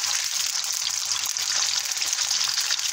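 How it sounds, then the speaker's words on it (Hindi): Arvi (taro root) pieces frying in hot oil, a dense steady sizzle that stays loud and even throughout with no voices. "अब अरवी डालने लगी हूँ। इसे गोल्डन फ्राई करना है हमें"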